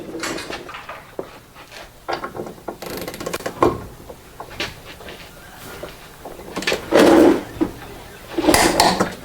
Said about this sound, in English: So we're gonna then torque this one over here.